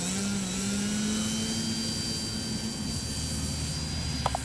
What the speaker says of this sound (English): All right, let's get out of here on the grass. Doing a grass takeoff.